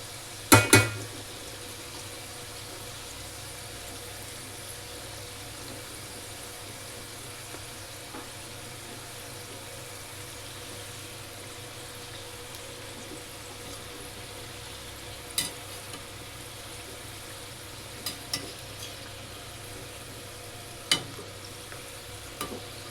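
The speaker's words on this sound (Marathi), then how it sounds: "मस्त अशा तळून घ्यायचे करंजी" Karanji pastries deep-frying in oil for Diwali make a long, even, soft sizzle, broken by a few sharp clinks of a metal spoon or utensil against the pan, one near the start and several later on.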